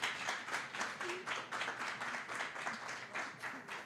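A small audience claps for a presenter at a public talk event in Montreal, a modest patter of hands with audible individual claps, fairly quiet and steady for a few seconds.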